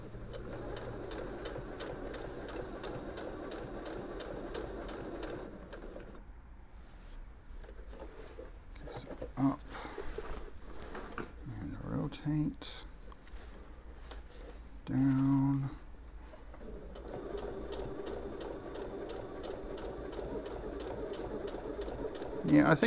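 A Singer Heavy Duty HD6805C sewing machine runs in steady stitching bursts, close and fairly loud, with a long run at the start and another near the end, broken by quieter handling noises and short stops in between.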